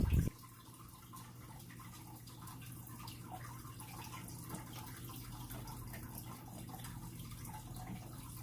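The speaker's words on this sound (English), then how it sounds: "the water isn't coming out super strong. It's like trickling down, so it's kind of louder." Water trickles steadily from a container with a clogged filter, a faint, continuous thin splashing with a low hum underneath, following a brief bump at the start.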